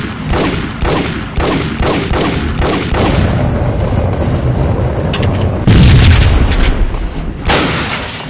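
Video game gunfire from Max Payne crackles in rapid bursts, dense overlapping shots and heavy booms filling the space, with a louder cluster of blasts toward the end.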